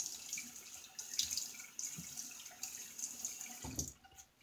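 A Shield Gem style safety razor is rinsed under a running bathroom tap, an intermittent close splash and trickle of water with several brief knocks and surges.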